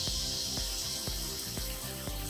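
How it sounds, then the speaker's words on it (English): Water streams steadily onto the blade of a crosscut miter saw from nozzles at both ends, a continuous hiss with faint regular ticking beneath it, alone without speech. "Water should pour on the blade at both ends."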